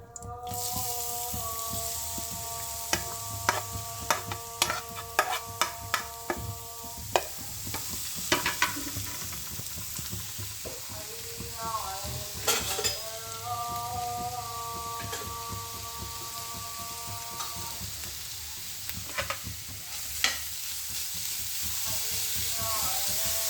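Grated carrot dropped into a pan for carrot halwa, then frying with a constant sizzle while a spoon scrapes and clinks against the pan at irregular intervals.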